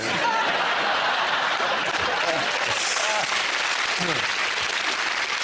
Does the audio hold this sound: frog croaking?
no